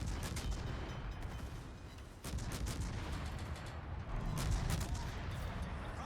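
Naval gunfire and torpedo launches from warships in World of Warships, a continuous din of booming salvos and rumbling blasts with sharp reports around two and four seconds, loud and dense throughout.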